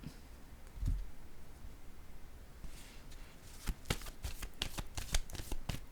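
Tarot-style cards are shuffled and laid down during a card reading, starting with a single soft thump, then a quiet stretch of faint rustling, followed by a rapid run of crisp riffling snaps close to the microphone.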